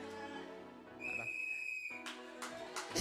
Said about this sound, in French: C'est comme notre maman qui siffle ici. Continue de siffler.